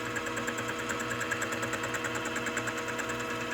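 A boring head cuts an air compressor connecting rod on a machine: a steady, continuous whirring drone with a faint rhythmic pulse and a high tonal whine, held at an even level, with no talking.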